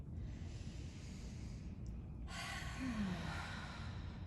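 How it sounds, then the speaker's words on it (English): A group of people breathe deeply together in a quiet room, a soft sustained inhale swelling into a louder, breathy exhale near the end, with no talking. "I'm just going to ask you to take a deep breath with me"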